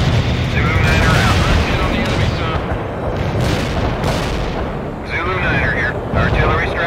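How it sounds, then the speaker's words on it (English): Artillery shells rain down in the video game World in Conflict, a loud, continuous rumble of heavy booms and blasts rolling without a break, with voices briefly heard over the barrage. "Coordinates locked down. Shells on the way."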